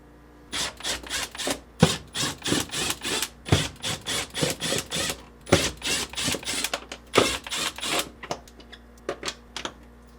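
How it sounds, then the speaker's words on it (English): A 1/4 inch nut driver backs screws out of the evaporator cover inside a GE refrigerator, giving a long run of close, loud, rapid ratcheting clicks in bursts with short pauses between them. "remove these 5 screws."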